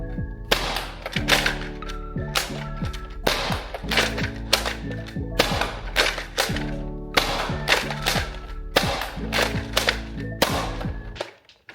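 A Nerf N-Series Infinite blaster fires a rapid run of sharp, snappy shots close to the mic, each a crisp crack with a short rattling tail, repeating in quick irregular bursts until it stops.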